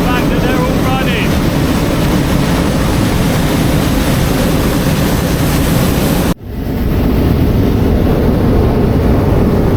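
Loud, steady roar of an airliner cabin during a landing approach near Vang Vieng, Laos, a broad rumble that continues through a sudden sharp jolt before settling back to the same sustained drone.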